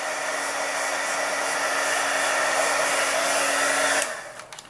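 A heat gun blows hot air to melt wax over an image on a candle. It gives a continuous, loud, even whooshing whir for about four seconds, then cuts off and fades away.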